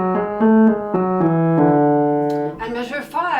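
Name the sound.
piano playing measure 1 of Bach Invention No. 12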